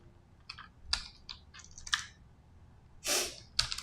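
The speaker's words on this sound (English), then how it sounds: "Let me just finish typing." Computer keyboard typing in short irregular bursts of clicks with pauses, fairly close and moderately loud, a louder rustling burst near the end, no talking.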